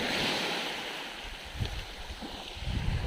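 Ocean waves rolling onto a beach in Batangas, a steady rushing surf with wind buffeting the microphone and a few closer wave washes toward the end, with no talk.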